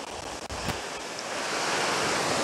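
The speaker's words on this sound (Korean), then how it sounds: "아, 또 파도가 진짜 너무 장난 아닙니다," Sea waves surging and crashing at Songjeong beach after rain, a steady loud roar of surf with wind buffeting the microphone, no voices.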